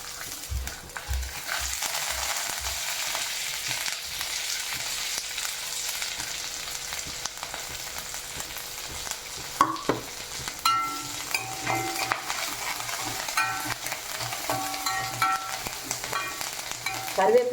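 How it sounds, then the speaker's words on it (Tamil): Asafoetida and toor dal fry in a hot pan with oil, a steady crackling sizzle running throughout, with occasional stirring clinks and scrapes toward the end. "இப்போ பெருங்காயம் நல்லா பொரிஞ்சாச்சு. நெக்ஸ்ட்டு துவரம்பருப்பு போட்டுக்கலாம்."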